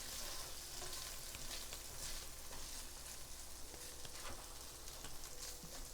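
Bacon frying and slowly rendering in a pan, a steady, even sizzle and crackle that holds at a constant low level throughout with no talking.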